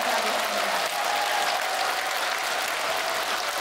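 At a Korean Buddhist dharma service marking Enlightenment Day, a congregation claps in a dense, even burst of warm applause that holds steady for a few seconds.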